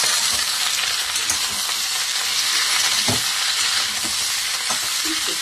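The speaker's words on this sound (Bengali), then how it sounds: "ভালো করে ভেজে নিতে হবে।" Mixed vegetables and dried fish frying in a pan for a five-vegetable curry: a loud, continuous hissing sizzle held close throughout, with occasional soft knocks as the food is stirred.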